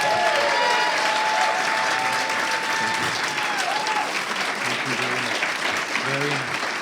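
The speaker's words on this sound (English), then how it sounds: "let's give Bruce a warmest of appreciation and applause for his efforts" Warm, loud applause from a community gathering audience, sustained clapping throughout with a voice speaking over it near the start and brief chatter toward the end.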